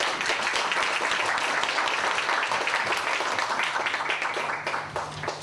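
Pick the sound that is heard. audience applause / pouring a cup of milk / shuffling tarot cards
audience applause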